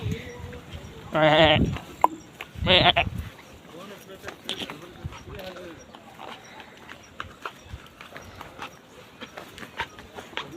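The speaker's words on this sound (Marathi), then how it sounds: "हे बकरी बघा बकरी." Goats near the Vishalgad fort area on a rainy monsoon trip bleat twice in quick succession, loud and close, followed by quieter scattered ambient clicks and rustles.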